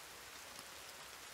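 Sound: rain falling in a video game

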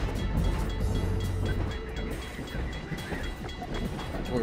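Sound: train passing in the video game Half-Life 2

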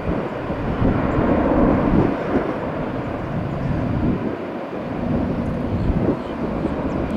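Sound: airplane taking off at Tampa airport

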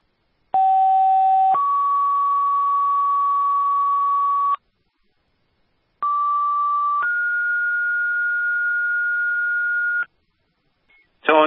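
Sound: fire dispatch alert tones

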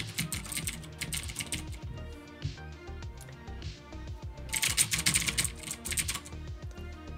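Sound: typing on a computer keyboard

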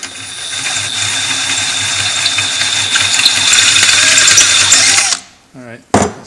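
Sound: step drill making round hole in thin material

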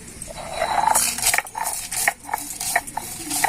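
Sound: grinding fried spices on a shil-nora grinding stone

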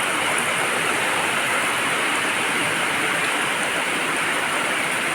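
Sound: rain

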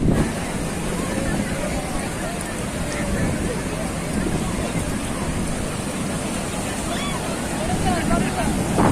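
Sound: large ocean waves breaking at Puri beach

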